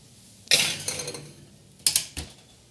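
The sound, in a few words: placing a dish into the oven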